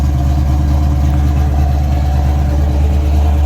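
A 1975 Pontiac Firebird Formula 400 with Flowmaster exhaust idles with a deep, heavy, steady burble, loud and close with an even lumpy pulse throughout.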